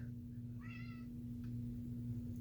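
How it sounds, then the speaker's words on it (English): A short cat meow, faint against a steady electrical hum and low background noise, with a few soft clicks afterward. "Cat scream."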